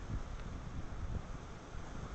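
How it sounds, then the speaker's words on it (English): Strong wind gusts buffet the microphone in the aftermath of Hurricane Gustav, a steady rough roar with low rumbling thumps throughout, loud and close with no voices. "There's still some pretty strong gusts of wind."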